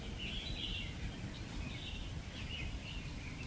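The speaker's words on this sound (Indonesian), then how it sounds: "terdengar suara kicauan-kicauan burung" Birds chirp and call in a lush forest with white flowers, a scatter of repeated high tweets over steady low background rumble, moderately near and fairly faint.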